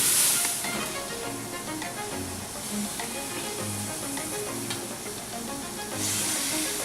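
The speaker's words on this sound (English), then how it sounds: "we're letting the corn and potatoes boil before we add the shrimp and lobster for the surf and turf" Corn and potatoes boiling in a pot for a seafood surf and turf boil, a steady close bubbling hiss with no breaks, loud and even throughout.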